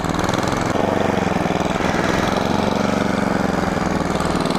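A snowblower engine running during a blizzard, a loud close steady drone with a rapid throbbing pulse and constant mechanical rattle, with no voices.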